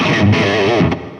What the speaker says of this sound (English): the distortion is cranked up